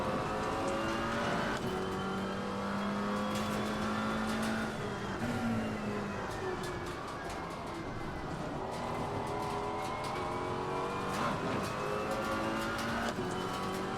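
A GT4 race car engine in Assetto Corsa Competizione runs steadily, with the revs rising and falling as it drives on track. It stays loud and continuous, with occasional tire noise and no talking.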